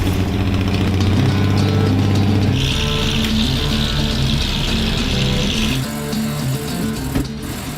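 A 1968 Dodge Charger rat rod engine fitted with a Thermoquad carburetor drones steadily with a rough, throaty idle-to-rev tone, loud and close throughout without speech.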